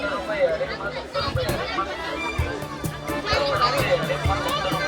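A packed village jatra at Dhanora surrounds the listener with dense, overlapping crowd chatter and babble, voices near and far mixing with footsteps and bustle throughout.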